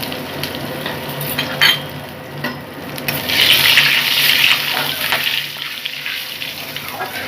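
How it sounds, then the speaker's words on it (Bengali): Ajwain and asafoetida tempering in hot oil alongside cardamom, cloves and cinnamon, a close crackling sizzle that swells into a louder hissing rush midway with stirring knocks. "সেই সাথে আমি একটু অল্প জোয়ান ফোড়নে দিলাম হাফ চামচ হিং দিয়ে দিলাম"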